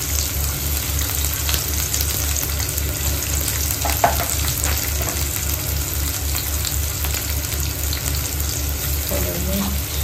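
Cumin seeds sizzling in hot oil in a home kitchen while aloo paratha is prepared, giving a steady, close frying hiss with a low hum underneath and no talk.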